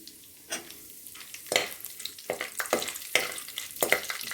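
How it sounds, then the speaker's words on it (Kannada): Chana dal frying and being stirred in a pan, with soft sizzling and a few scraping stirs heard close by and no talking. "ಈಗ ಕಡಲೆಬೇಳೆ ಸ್ವಲ್ಪ ಫ್ರೈ ಆಗಲಿ"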